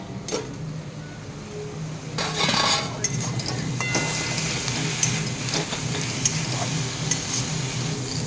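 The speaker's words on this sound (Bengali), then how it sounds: "শাকটা আমি এখন নাড়িয়ে দেবো" Leafy greens being stirred and tossed in a frying pan with a utensil, soft scraping and rustling over a low sizzle, with a louder burst of clinking and scraping partway through and sparse metallic taps afterward.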